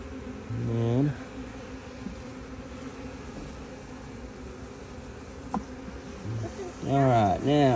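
Honeybees buzz steadily around an open hive as frames are moved into a new box, a close, continuous drone with several louder bursts as individual bees fly near.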